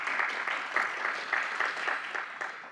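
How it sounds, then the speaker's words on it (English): Parents and families receive a round of applause from the audience at a 2023 summer graduation ceremony: dense, steady clapping from a large crowd, filling the room evenly for a few seconds. "So if we could give them a round of applause."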